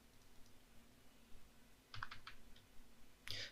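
Faint, sparse computer keyboard keystrokes at close range, a few scattered clicks and a short burst near the end, over a steady low hum, with no voices.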